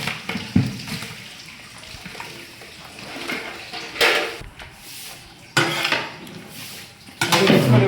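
Metal spoon scraping and clanking against a large cooking pot as mutton is stirred for a wedding-style biryani, with a few sharp knocks and wet sloshing at intervals, close and fairly loud.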